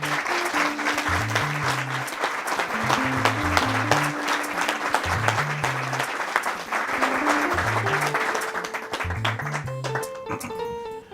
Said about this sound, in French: Et maintenant, recevons avec un tonnerre d'applaudissements Monsieur le maire.